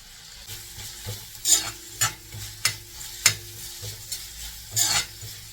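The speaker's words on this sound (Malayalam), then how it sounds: "സവാളയും പച്ചമുളകും തേങ്ങാക്കൊത്തും ഒക്കെ ഇട്ടിട്ട് ഒന്ന് ഇളക്കിയിട്ടുണ്ട്" Chopped onion, green chilies and coconut pieces are stirred in a hot pan, with a low steady sizzle broken by about half a dozen sharp scraping and clanking spoon strokes at an uneven pace, close and without voices.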